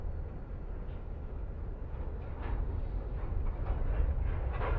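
A passenger train runs on the Hamburg route to Altona in Train Simulator Classic, a steady low rumble of wheels and carriage noise that builds gradually with faint rhythmic clicks over the rails.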